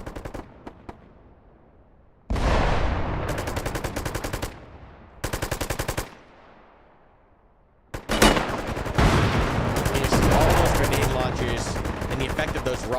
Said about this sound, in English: It's basically rockets and explosives for Satyr and machine gun power for the Rangers.